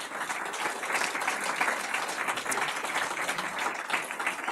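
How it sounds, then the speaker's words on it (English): An audience gives a big round of applause for a school district's Board of Education at a celebration night, loud, sustained clapping that stays dense and even throughout. "Let's give a big round of applause."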